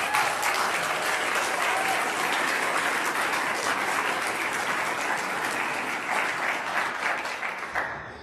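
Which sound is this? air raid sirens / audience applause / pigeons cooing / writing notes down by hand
audience applause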